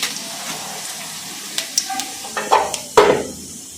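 Mustard and cumin seeds spit and crackle as they hit hot oil for a tempering, with sharp sizzling bursts building toward the end over a quiet background.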